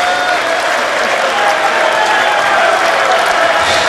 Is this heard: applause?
yes